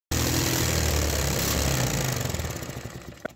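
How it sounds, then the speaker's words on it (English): A 3D printed high performance engine revving hard at wide open throttle, a loud dense continuous roar that holds steady then fades slightly toward the end, with one sharp pop near the close. "So the engine started and ran properly, but then this hand decided it's time for some wide open throttle"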